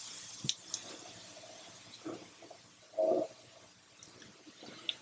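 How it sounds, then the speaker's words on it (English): A person's stomach growls close to the microphone in a quiet room, a few faint gurgling rumbles with one longer, louder gurgle in the middle. "I'm sure the microphone's just picked up my stomach growling up through my throat"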